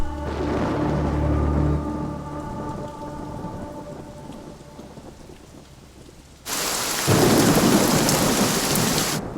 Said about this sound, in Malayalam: മഴ തോരാൻ ഇനിയും സമയമെടുക്കും.